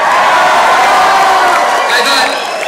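Rally crowd at an outdoor political barbecue in a park, cheering and whooping loudly and continuously, a dense wash of voices that eases slightly at the end.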